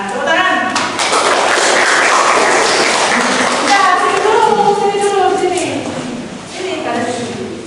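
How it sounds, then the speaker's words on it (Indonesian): A high-school class applauds after a role-play exercise in a fiqh lesson, a dense, continuous clatter of clapping mixed with students' and a teacher's voices throughout. "Nah, tepuk tangan."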